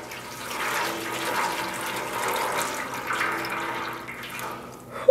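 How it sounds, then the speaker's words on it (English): Water dripping and trickling steadily from wet hand-dyed yarn skeins as they are wrung out after immersion dyeing in a steam pan, a soft continuous splashing, close and moderately loud, with no talking. "I'm trying to wring out a lot of the water."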